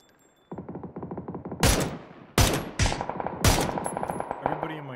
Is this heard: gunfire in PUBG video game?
yes